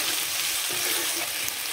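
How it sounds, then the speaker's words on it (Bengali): Young jackfruit sautéing in a browned spice paste gives a steady, close sizzle with soft stirring scrapes. No voices are heard. "এরপরে আমি এঁচোড়টা দিয়ে দেবো। এরপর আমি সুন্দর করে কষিয়ে নেব।"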